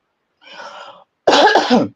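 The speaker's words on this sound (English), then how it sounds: "I might have to cough." Two coughs close to the microphone: a softer, breathy one followed by a louder, harsher throaty cough after a short pause.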